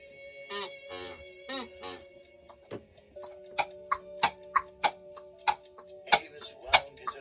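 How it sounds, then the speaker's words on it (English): A wound alarm clock ticks in a quiet bedroom, faint sharp ticks that grow into a regular steady rhythm, with a few chirpy sound effects at the start. "wound his alarm clock"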